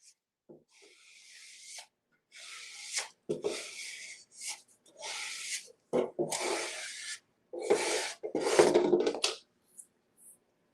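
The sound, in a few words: squeegee smoothing material on a metal bucket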